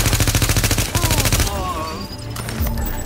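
Rapid automatic gunfire in Tom Clancy's The Division during a battle to retake Grand Central Terminal, loud rhythmic bursts that stop and give way to voices and lingering battle noise.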